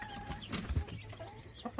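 Meat chicks and laying hens, including white leghorns and brown layers, clucking and chirping on a farm, several short calls scattered over quiet background, fairly close but soft.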